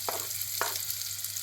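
Artichokes with fresh parsley roasting in a hot pan, giving a soft steady sizzle with a couple of brief stirring scrapes and a low background hum.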